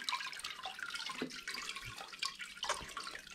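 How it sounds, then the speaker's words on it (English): Water drips and trickles from a papermaking deckle holding paper pulp, a close, quiet patter of many small irregular drops running steadily. "and you let it drip."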